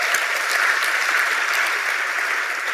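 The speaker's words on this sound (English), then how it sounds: "Let's give her a round of applause." At an August graduation ceremony in the Dayton area, the audience applauds a graduate with a steady, fairly loud burst of many hands clapping that lasts under three seconds.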